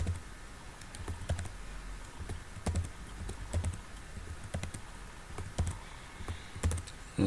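Steady typing on a computer keyboard during coding work, irregular clicks and occasional heavier key strikes at close range, with no voices.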